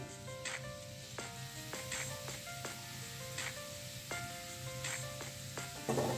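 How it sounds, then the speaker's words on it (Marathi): Grated red pumpkin, half a kilo, sizzles steadily in hot ghee for a winter halwa, with repeated sharp bursts as the shreds are stirred and turned in the pan, close and continuous with no talking. "आता याच्यामध्ये मी हा अर्धा किलो लाल भोपळ्याचा किस करून घेतलेला आहे। अर्धा किलो भोपळा होता, तर तो मी याच्यामध्ये आता ट्रान्सफर करते।"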